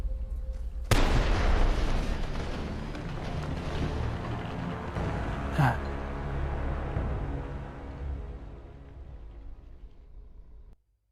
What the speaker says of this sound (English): Thought we activated like a grenade bouquet or something.